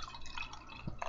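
North Coast Old Stock Ale beer is poured into a glass, giving a steady liquid splash and fizzing, fairly close and unbroken by talk.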